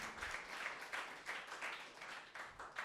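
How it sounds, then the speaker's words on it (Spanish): An audience at a panel event on drug policy applauds a guest speaker from Brazil, steady clapping at moderate distance lasting throughout, fairly faint in the hall. "Un aplauso también, por favor, para el ponente invitado de Brasil."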